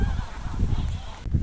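Geese honking on a road, a few nasal honks close by over rumbling background noise, ending in a louder thump.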